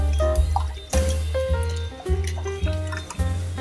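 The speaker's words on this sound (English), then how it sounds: "I'm gonna wash them off." Cut yam pieces are rinsed in a container of water, giving repeated sloshing and dripping splashes over steady tonal background music.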